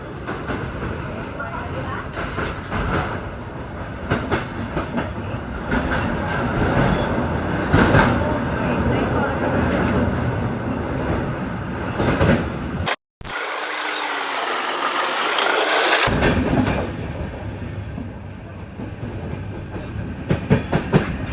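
A passenger train rolls steadily along the rails on the Visakhapatnam to Araku line with a continuous rumble and rhythmic clickety-clack, interrupted by a short dropout before the running noise returns.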